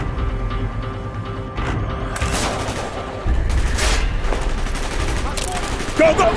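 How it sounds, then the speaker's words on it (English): Gunfire in the video game Call of Duty: Black Ops, sustained bursts of automatic fire and sharp shots over a rumbling battle background, loud and continuous, with voices partly mixed in. "Gunfire's drawing attention."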